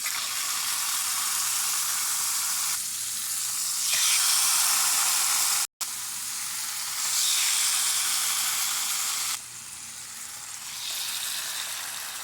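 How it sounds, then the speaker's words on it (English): Marinated teriyaki chicken and vegetables sizzle and hiss steadily in a hot pan during stir frying. The loud frying noise rises and falls as the food is stirred, with no talk over it. "This chicken is stir fried."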